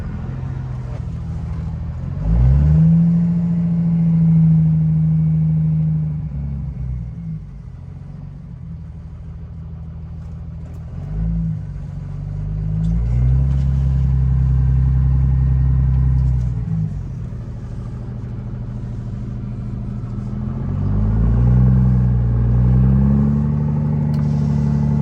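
A turbocharged 1500-horsepower plow truck engine idles with a deep rumble and is revved up several times, each rev rising, holding, then settling back, loud and close.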